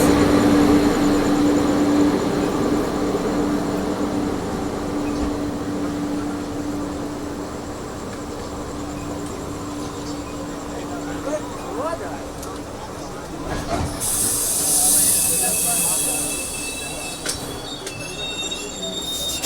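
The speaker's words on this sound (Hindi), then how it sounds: "यानी कि ये हमें ऑफिशियली ओवरटेक कर रही है तुलसी एक्सप्रेस।" The Tulsi Express passes and overtakes on the Visakhapatnam–New Delhi line, heard from a train: loud rolling wheel rumble and a sustained tonal rail hum, then a sharp high wheel squeal near the end, with people talking throughout.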